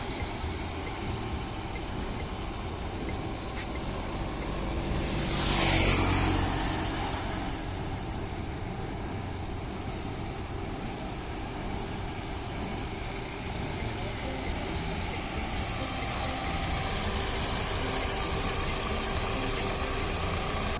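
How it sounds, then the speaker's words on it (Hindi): A car engine idles steadily through the whole stretch while the car reverses into a parallel parking space, with a brief louder swell of engine and road noise partway through and a continuous low hum underneath. "तो उसके लिए मैं गाड़ी को पीछे ले जाता हूं।"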